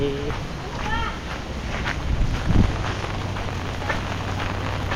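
Rain falls steadily as a constant dense hiss of drops on surfaces, with some wind buffeting and faint background voices underneath.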